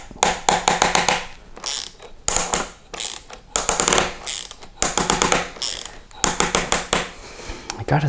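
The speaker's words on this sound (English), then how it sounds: "It's just the squeaking of the bamboo, the screw that's just trying to screw in the hole." A screw driven into a bamboo rice dispenser during assembly gives off rapid ratcheting, squeaky clicks in repeated bursts, each lasting about a second with short pauses between, close and loud.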